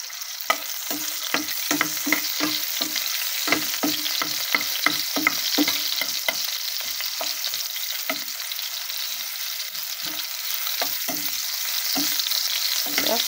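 Onions fry in a pan for a small-fish curry made with lemon leaves, under a constant crackling sizzle broken by repeated sharp scraping strokes of a spatula, close and steady throughout with no talk.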